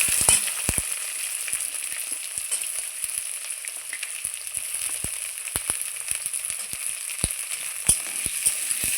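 Small diced potatoes frying in hot oil in a pan, a steady close sizzle with sharp scattered crackles and pops throughout, with no talking.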